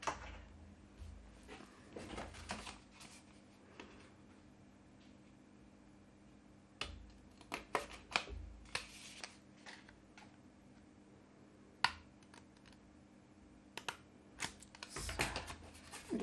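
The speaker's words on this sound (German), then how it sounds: "Man legt es zusammen und schneidet mit einer Schere rein." Scissors snip into a folded paper card while making a fold-back pop-up sympathy card, quiet, sparse, irregular crisp clicks and cuts close by, with no talking.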